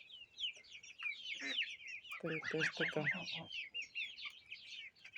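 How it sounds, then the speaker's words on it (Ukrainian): Chickens and chicks cluck and peep in a poultry yard alongside ducks in 40-degree heat, soft chirps running throughout with a louder burst of clucking in the middle, while a person talks nearby. "Курчата наші тут сидять, поховалися."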